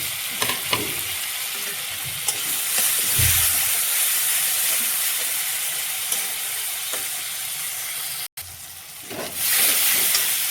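Onions and chopped tomatoes frying in a pan for an egg curry, a steady close sizzle and hiss running throughout with occasional scrapes and clinks from stirring.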